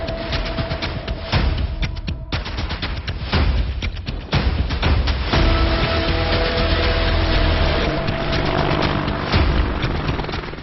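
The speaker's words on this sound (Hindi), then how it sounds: "लद्दाख में ये बेहद फुर्तीले अपाचे हेलीकॉप्टर की उड़ान।" Indian Army Apache helicopter flying over Ladakh, a loud steady rotor roar with rhythmic blade chop, sustained throughout at close range.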